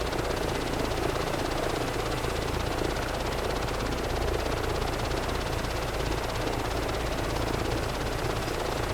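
A helicopter in Microsoft Flight Simulator 2024 flies over the Yas Marina circuit, its steady, loud rotor and engine drone filling the scene continuously with no pauses and no talking.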